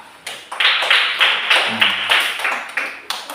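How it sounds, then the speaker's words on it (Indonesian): A classroom group claps together in a short, rhythmic round of applause, about a dozen sharp, evenly spaced claps close by, with no talking over them. "Tepuk tangan"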